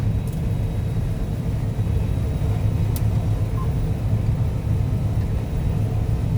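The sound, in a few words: combine harvester running while harvesting soybeans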